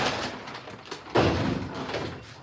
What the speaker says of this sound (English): If I just open this door